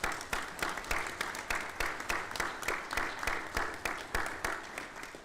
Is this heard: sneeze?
no